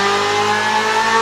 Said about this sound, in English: This is the sound of Ferrari.